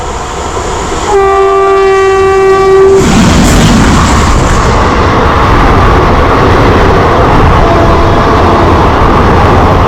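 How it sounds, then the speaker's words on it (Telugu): An express train hauled by a WAP-9 locomotive at a level crossing sounds a loud sustained horn for about two seconds, then thunders past very close with a steady roaring rumble and wheel clatter. "సో మన క్రాసింగ్ ట్రైన్ అయితే వచ్చేస్తుంది."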